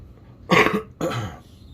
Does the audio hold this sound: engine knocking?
no